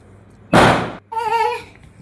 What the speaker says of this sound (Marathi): इकडं चाललंय रुद्रांशचा आणि रुद्राच्या पप्पांचा फटाके उडवायचा